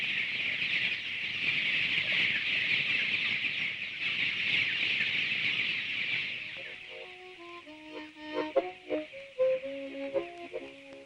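Chickens cluck steadily, a dense massed flock reared by the tens of thousands inside a former Lancashire weaving mill; the broad chatter fades after about seven seconds as music takes over.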